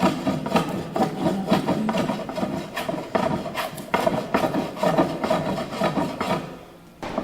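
A wooden paddle shaft is hand-carved and evened out, giving close, rhythmic rasping strokes of a blade or rasp on wood. The scraping repeats steadily and stops just before the end, with no voices.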